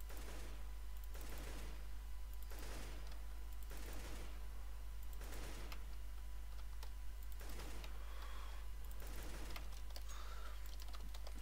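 Short bursts of AK-47 rifle tap-fire in Counter-Strike: Global Offensive, repeating at a regular pace for several seconds, quiet and thin against a low background hum, with no talking.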